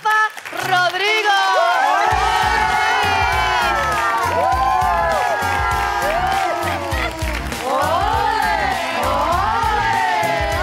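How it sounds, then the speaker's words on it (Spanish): Studio audience on a Spanish TV variety show bursts into loud applause and cheering for a guest, with whoops and shouts over sustained clapping and voices calling out throughout. "Un fuerte aplauso para Rafa Rodrigo."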